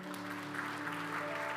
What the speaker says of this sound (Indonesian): Yang percaya berikan tepuk tangan untuk Tuhan